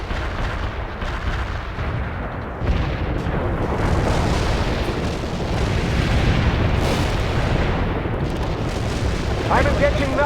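Artillery barrage in the real-time strategy game World in Conflict: a continuous wall of heavy booming explosions and rumbling impacts, loud and dense throughout, with overlapping blasts building steadily.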